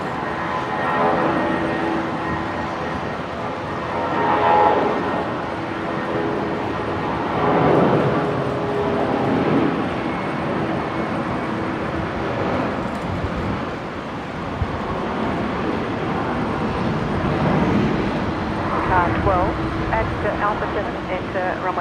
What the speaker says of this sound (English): Here we go, Jetstar 573, rolling 320.